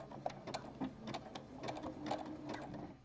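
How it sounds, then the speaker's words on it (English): A sewing machine runs a few stitches and then back stitches while making a strappy jockstrap, with a steady quiet mechanical rattle in short bursts and no talk. "Now I'm going to probably stitch a couple stitches and then back stitch."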